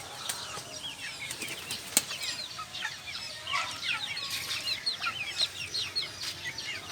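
Chickens and chicks in a small backyard coop, with wing flaps, clucks and chirps scattered steadily throughout, fairly close and moderately loud.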